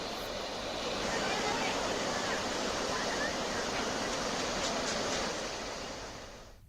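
Fast-flowing flood water rushes through the Jalvagu stream in Bijapur, a loud, steady broadband roar that holds throughout and fades only at the very end.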